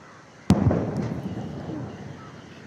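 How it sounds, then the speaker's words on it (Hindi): A single loud boom from a ceremonial cannon gun salute in Colombo, a sharp report followed by a long rolling rumble fading over two seconds, heard outdoors at a distance. "तोपों से सलामी दी जा रही है"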